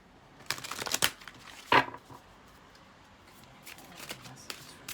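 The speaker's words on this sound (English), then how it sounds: "One more shuffle." A deck of tarot cards shuffled by hand in a few quick riffling bursts near the start, then soft scattered card flicks and rustles, close and fairly quiet with no talking.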